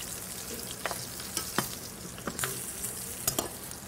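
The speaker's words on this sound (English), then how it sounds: "Okay, we've seared the short ribs on all sides." Seared short ribs sizzle steadily in an oiled pan for braising, a dense frying hiss punctuated by several sharp clicks and scrapes of stirring or turning, close and alone with no talk.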